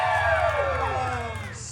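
A live audience at a Deadpool story-time show at Disney California Adventure cheers and whoops, a broad crowd roar with rising and falling shouts carried steadily throughout.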